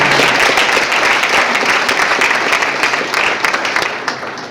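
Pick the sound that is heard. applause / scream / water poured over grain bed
applause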